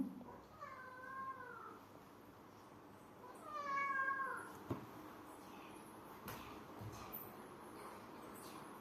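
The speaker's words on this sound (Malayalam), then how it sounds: "ബാക്ക്ഗ്രൗണ്ടിലൊരു പൂച്ചയുടെ സൗണ്ടൊക്കെ" A new kitten meows in the background of a home kitchen while food is stirred, giving two drawn-out, wavering cries about three seconds apart, moderately loud, followed by soft clatter and a few sharp knocks.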